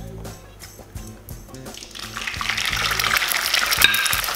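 Egg dropped into smoking-hot olive oil in a wok for fried rice, a bright hissing sizzle that swells and stays loud after a few clinks and taps at the start, no talking.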